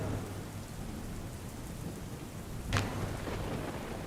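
Heavy rain pours down steadily over Palanpur, a dense constant wash with one short sharp crack partway through.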